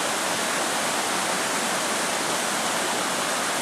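Water pouring down a waterfall at an old grist mill, a continuous dense hiss and roar, close and even in level from start to finish, with no talking.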